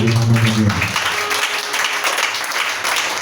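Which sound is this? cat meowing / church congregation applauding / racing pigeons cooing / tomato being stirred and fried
church congregation applauding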